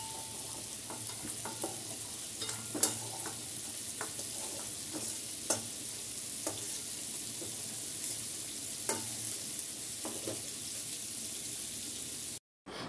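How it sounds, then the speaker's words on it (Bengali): Potatoes frying in oil in a frying pan, a steady low sizzle running throughout with occasional soft clicks and scrapes, moderately quiet and with no voices. "এই তেলে আমি আলুগুলো ভেজে নেব।"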